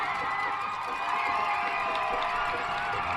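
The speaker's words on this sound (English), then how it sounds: "As the JYSF Venom fans celebrate," Youth football fans at a tykes championship game cheer and shout as the final whistle ends the game, a dense, continuous crowd roar with children's voices throughout.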